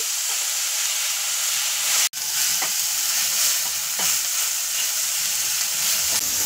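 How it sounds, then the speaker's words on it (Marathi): Onion, garlic, ginger and two small chopped tomatoes sauté in a pan for prawn masala, with a steady close sizzle and occasional stirring scrapes. A brief gap interrupts it partway through. "हा छानपैकी आता परतून घेणार आहोत।"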